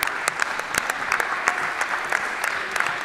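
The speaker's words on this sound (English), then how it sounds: "a round of applause here at the Castle as the seniors will head off the court" Applause at a high school girls' basketball game as the seniors head off the court, a crowd clapping steadily with scattered sharper claps, moderately close.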